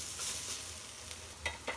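Fragrant-leaf fritters (bora) fry in hot oil at home with a constant close sizzle, broken by a few short stirring scrapes toward the end.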